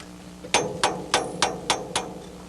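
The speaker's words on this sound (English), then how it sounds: "Once the sockets are in position, all we have to do is tap on our punch." Hammer tapping a punch to set a stripper plate on a 1988 Case IH 1600 Series combine, five sharp metallic strikes at a steady, even rhythm, close and fairly loud with no talking.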